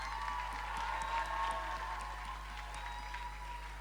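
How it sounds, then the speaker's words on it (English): Steady applause from an audience at the closing ceremony of the AISA Global Issues Service Summit 2019, a moderate, even patter of clapping lasting throughout over a low constant hum, with no voices over it. "Big round of applause."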